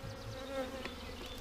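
Honeybees from an unknown swarm are shaken out of a container into a new hive body, a brief close, low buzzing drone of many bees.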